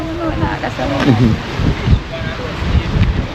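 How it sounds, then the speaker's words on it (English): A breeze rumbles across an open, watery setting while a voice talks over the gusty wind noise. "The breeze is blowing so nice, so windy"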